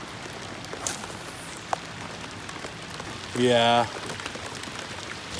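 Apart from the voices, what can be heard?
heavy rain falling outdoors while fishing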